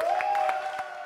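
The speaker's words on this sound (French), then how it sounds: "On applaudit Mola." Brief scattered applause from a live audience on a talk show, a few loose claps heard under a sustained musical tone.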